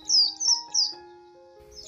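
Birds chirping on a clear Sunday morning, several quick bright tweets in a row, near and fairly loud, followed by a brief pause and another call over a soft sustained tone.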